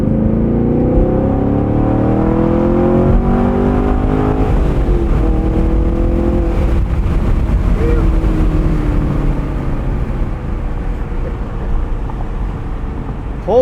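A 2017 Chevrolet Camaro 2SS manual convertible accelerating in sport mode, a loud close engine roar climbing steadily in pitch through the gears, with road and wind noise and brief speech near the end.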